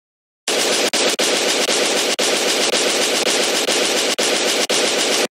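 Sustained automatic gunfire from a TV show, a loud continuous rattle of rapid shots with only a few brief breaks, steady and close throughout with no talking.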